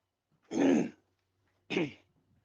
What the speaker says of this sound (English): I keep clearing my throat here.